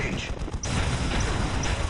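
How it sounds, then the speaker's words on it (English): Flamer and lasgun fire in a Dawn of War real-time strategy battle inside a base, a dense, continuous roar of bursts and crackling weapon noise running throughout, close and loud. "Flamers and lasgun fire in the base."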